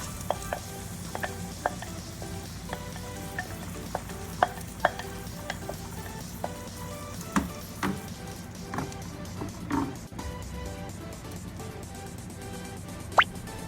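Mushrooms and cream stirred into a pasta sauce in a pan, with a continuous low sizzle under repeated soft scrapes, plops and light clicks of a utensil, close and steady.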